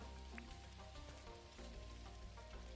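Rain falling in the farming video game Dinkum, a soft steady hiss at low level running continuously under the game's tonal background music.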